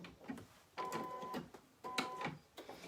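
A home embroidery machine stitching out a design on fabric, with close, quiet whirring bursts of rapid needle strokes, stopping and starting in short runs.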